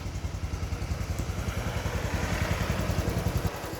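A 2019 Honda Wave 110i motorcycle with hand-start engine idles quietly and steadily nearby, a soft even putter with rhythmic low pulses running throughout, with no voices.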